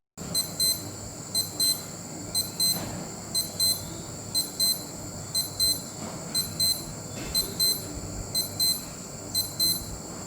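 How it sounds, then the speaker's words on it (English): A Casio F-200W digital watch alarm beeps in repeated quick bursts, sharp high-pitched chirps grouped in a steady rhythm, loud and close, with no talking. "Alarm test. Okay, time to wake this thing up."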